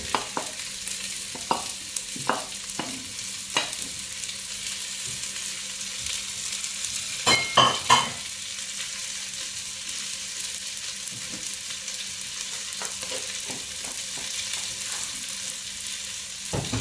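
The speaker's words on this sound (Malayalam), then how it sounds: "നമുക്കിനി അതിലേക്ക് സവാള ഇട്ട് കൊടുക്കാം." Sliced onions dropped into hot oil with golden-fried ginger, garlic and green chilli for a chicken liver fry, giving a steady close sizzle broken by sharp scrapes and clacks of a spoon stirring the pan.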